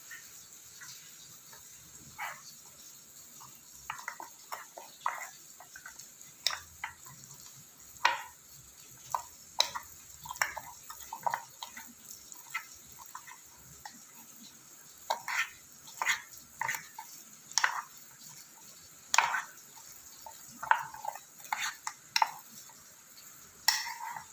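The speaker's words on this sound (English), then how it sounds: "And now we're just going to mix it until it is incorporated." A spoon stirring mug cake batter after milk is added, heard as light irregular clinks and scrapes against the mug, sometimes in quick clusters, fairly close over a quiet background.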